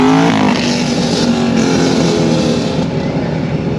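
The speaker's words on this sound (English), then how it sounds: "sounds like you missed a gear." A car engine drones steadily and loudly inside a hot, metal-interior car, its harmonic tone wavering as a gear shift is missed, with no voices over it.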